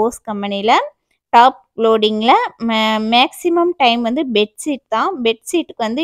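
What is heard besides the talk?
No everyday noises stand out.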